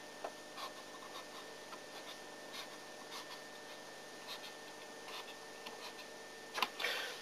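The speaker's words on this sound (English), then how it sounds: "So I'm going to draw that line now." A pen drawing a line on paper for a dotted graph line, close and faint. A soft scratching runs in short strokes, with a louder scrape near the end.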